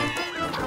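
The dog Ochi in Pikmin 4 gives one short, high yip-like bark, close and brief, over a bed of bright game music.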